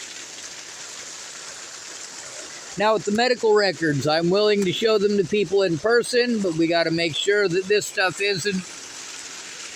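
Steady rain patters and hisses in the background, continuous from start to finish beneath someone talking at close range.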